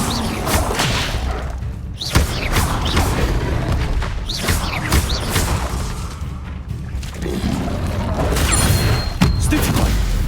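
An Incendio fire spell in Hogwarts Legacy bursts with sharp booms and whooshing flame swells amid other spell impacts and crashes, loud and busy with repeated hits across the passage.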